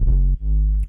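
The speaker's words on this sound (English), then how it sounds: "just with square wave, low pass filter, and a lot of distortion" Distorted square-wave sub bass synth through a low-pass filter, playing two deep buzzing sustained notes back to back, loud and close with no voices.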